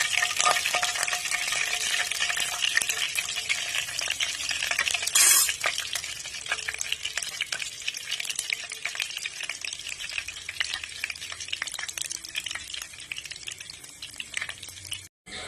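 Egg poppins fry in hot oil with a bright, continuous sizzle and hiss, joined by occasional scraping of a utensil against the pan. The sound is close and steady throughout, with no speech.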